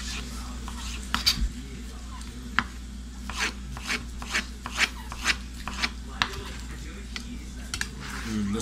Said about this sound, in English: Cutting into thin slices,